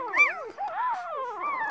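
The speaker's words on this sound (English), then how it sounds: "These cute little puppies just coming around." One-day-old puppies whimper and squeak in thin, wavering high-pitched cries, close and continuous with one short break, no voices.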